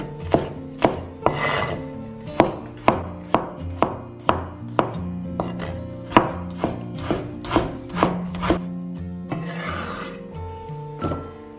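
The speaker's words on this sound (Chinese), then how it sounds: "切一些葱姜蒜备用。" A knife chops scallions, ginger and garlic on a cutting board for a home-style pork dish, striking in a steady, brisk rhythm of close, crisp chops with no voices.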